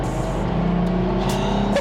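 A Ferrari LaFerrari, set to race mode on a track, gives off a loud, steady engine drone with a low, sustained rumble and no voices over it.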